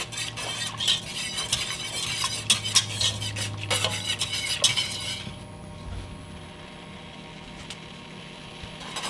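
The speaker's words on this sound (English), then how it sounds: "we're going to bring this up to a boil, stirring it regularly" Keto chocolate fudge mixture stirred in a pot on the stove, with repeated utensil scrapes and clinks against the pot over a low sizzle for about five seconds, then a quieter steady simmering hiss.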